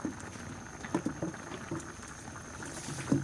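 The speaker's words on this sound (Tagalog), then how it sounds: "kumukulo na" Pakbet vegetables, cabbage softened, bubble in a pot on the stove, a soft steady simmer of small pops and gurgles with a faint constant hiss.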